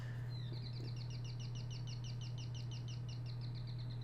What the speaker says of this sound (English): It sounds like a bird song.